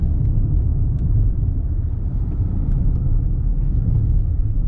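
Toyota Crown Sedan hybrid driven along a winding mountain road in sport mode, a steady low road rumble and engine drone filling the cabin continuously without voices.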